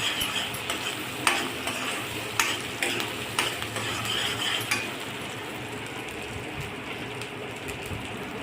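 Masala sautéing in oil in a pan for a cashew masala curry gives a steady sizzle, with sharp spoon-on-pan clinks and scrapes early that fade to a plain hiss, and no voices.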